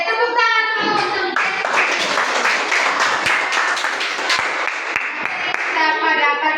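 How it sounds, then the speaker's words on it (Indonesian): Children in a classroom break into a round of steady clapping, loud and close, lasting several seconds, with a teacher's voice briefly heard at the start and end. "Oke, tepuk tangan dulu untuk"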